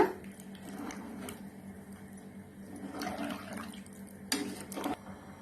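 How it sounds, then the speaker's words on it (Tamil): Water pours and splashes into a cooking pot of vegetable biryani ingredients nearby, a steady gurgling stream with a few sharper splashes near the end. "இப்போ அரிசிக்கு தேவையான அளவு தண்ணி ஆட் பண்ணிக்கலாம்."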